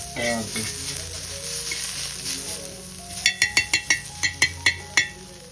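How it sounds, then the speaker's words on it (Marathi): Tomato sautéing in a pan for a Kokan-style chicken dish, a steady close sizzle with a quick run of sharp metallic clinks from a spoon against the pan near the end. "त्याला टॅमॅटो मस्तपैकी परतवून झालाय छानपैकी"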